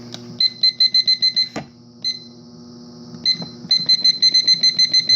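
A kitchen timer beeps in rapid electronic bursts as its button is pressed repeatedly, one run of beeps, a pause with a click, then another run, close and clear with no talk.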